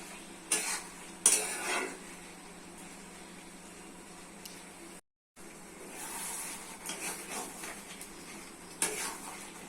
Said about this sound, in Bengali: ভেজে রাখা পটল পরে নিয়ে আরও ভালো কষে নিতে হবে